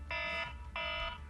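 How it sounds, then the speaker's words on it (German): A kitchen timer alarm rings in two bright beeping bursts with a short gap between them, loud and close with no talking over it. "Timer."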